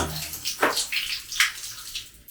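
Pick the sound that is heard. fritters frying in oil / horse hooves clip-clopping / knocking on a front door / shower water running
shower water running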